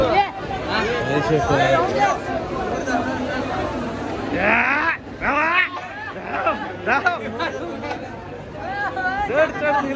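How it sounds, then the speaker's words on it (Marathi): Dense, loud chatter of a packed crowd at a busy station, many overlapping voices close by with nearer individual speakers talking through the babble. "ही बघा गर्दी बघा किती आहे गर्दी"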